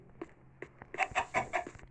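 A chicken clucks in a quick series of short, sharp calls, fairly close but quiet, with a few isolated clucks before a faster burst.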